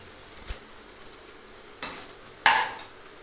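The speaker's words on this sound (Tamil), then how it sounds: "இப்போ நல்லா வதங்கட்டும் பார்ப்போம்" Brinjal sautés in a pan for thokku rice, a faint low sizzle broken by three sharp scrapes or stirs of a spoon against the pan, the last two louder and close.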